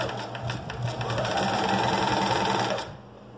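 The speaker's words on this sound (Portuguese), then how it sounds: "Agora a gente vai passar uma costura em toda a borda." A sewing machine runs steadily for about three seconds, stitching all the way around the edge of a patch pocket. It holds an even mechanical whir and rattle, then stops, with no talking.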